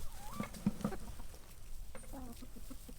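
Chickens cluck nearby in a few short bursts, with higher squawks and bird-like calls mixed into a steady low background.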